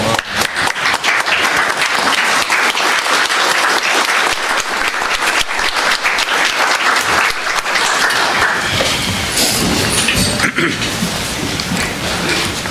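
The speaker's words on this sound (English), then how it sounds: "give him one more round of applause" Sustained, loud applause from a crowd at a county commission regular meeting, steady dense clapping filling the room for the whole stretch with no talk over it.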